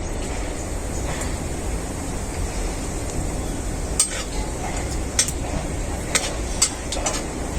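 Dried chillies and panch phoron sizzle in hot mustard oil in a kadai, a steady crackling hiss running throughout with a few sharp pops and utensil clinks near the end; no voices.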